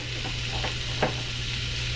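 Butter melting and sizzling in a hot pan ready for wahoo fish, a soft continuous fry with a couple of faint clicks, fairly quiet, no talking.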